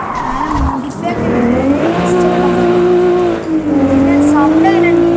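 In a racing video game, a modified supercar's engine roars loudly and continuously while its tires squeal in long sliding skids, the pitch rising and bending as it accelerates through turns.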